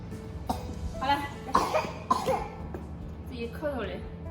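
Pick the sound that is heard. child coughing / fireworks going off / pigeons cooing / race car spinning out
child coughing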